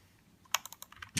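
Typing on an Aula backlit gaming keyboard, a quick run of about eight crisp key clicks in uneven rhythm, close and clear, ending on a louder press.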